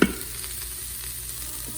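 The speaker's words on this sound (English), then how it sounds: "So this is frying up really nice if you wanted to take a look at it." Beef and onion with tomato paste sizzle and fry steadily in a pan for beef stroganoff soup, a constant close hiss after a brief clink at the start.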